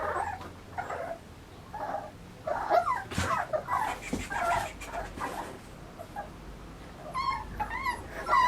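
A puppy being held for a vaccination at home gives soft, repeated whimpers and short whines, scattered and fairly close, over a quiet room with faint background noise.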